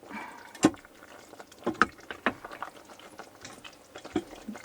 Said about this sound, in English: And it's bubbling.